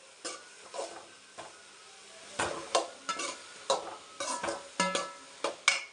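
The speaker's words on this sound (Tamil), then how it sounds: "இப்போ வந்து பீர்க்கங்காயை போட்டுக்கலாம்." Ridge gourd tipped into hot oil and stirred, giving a run of close scraping, clattering stirring strokes at an uneven rhythm over a soft, steady sizzle.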